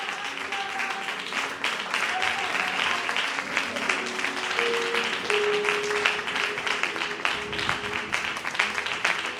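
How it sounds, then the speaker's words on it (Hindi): A congregation at a sermon gives loud, sustained applause in welcome, a thick, even clapping texture with a few faint voices and tones beneath it. "जोरदार तालियों में।"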